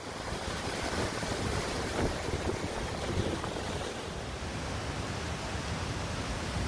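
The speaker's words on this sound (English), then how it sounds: "The wind gets stronger, blowing the trees to a frantic dance." Strong wind from Cyclone Harold blowing through trees on an island, a dense unbroken roar of gusting air and rushing foliage that stays loud and steady throughout, with no voices.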